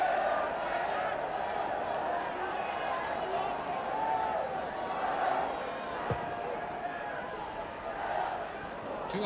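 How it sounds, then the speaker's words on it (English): Football stadium crowd at the 1976 Wales v. Austria European qualifier, a steady roar of massed voices and chanting from the terraces heard from a distance, continuous throughout with a few faint thuds. "Just listen to this crowd."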